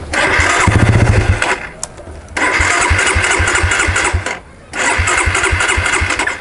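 A Suzuki Satria FU motorcycle being started, with a low cranking rumble, a brief catch, then two stretches of close, loud engine running broken by a short pause.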